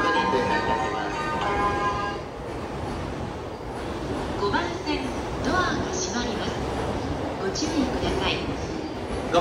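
A train rumbles and rattles steadily with clattering wheels and occasional squeals at a Japanese station, Koganei on the Utsunomiya Line, while a voice talks over the continuous rolling noise.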